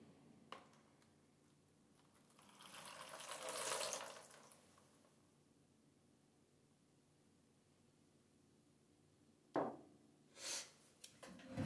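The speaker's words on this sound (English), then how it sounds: "we're going to pour our warm water into our container" Warm water pours briefly into a container with a soft gushing sound, then quiet, followed later by a few faint splashes and clinks.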